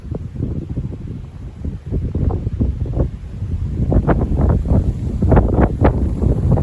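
A strong mistral wind with gusts around 70 km/h blows on 2 July 2025 ahead of a thunderstorm, buffeting the microphone in loud, rumbling gusts that grow stronger and more frequent over time, with no voices.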